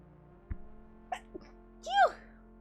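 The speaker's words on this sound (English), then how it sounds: "I'm gonna sneeze." A single sharp sneeze bursts out near the end, preceded by a couple of small clicks and quiet breaths over a low hum during a Minecraft livestream.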